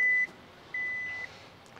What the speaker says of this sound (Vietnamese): mình đè giữ cái nút này đến khi nào nghe tiếng bíp bíp như vậy nó đã được thiết lập cái vị trí mở lên